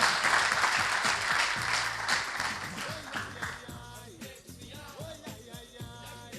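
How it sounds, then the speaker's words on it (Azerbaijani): Studio audience applause at a TV show, a dense burst of clapping that fades out after a few seconds as voices and music take over. "Bir alqışlar olsun da bu yardıma."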